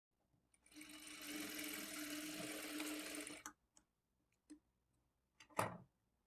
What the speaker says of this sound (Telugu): ఈ కార్నర్ దగ్గర నుంచి స్టార్ట్ చేసుకొని ఈ కార్నర్ దగ్గరికి స్ట్రైట్గా ఒక స్టిచ్ వేసుకోవాలి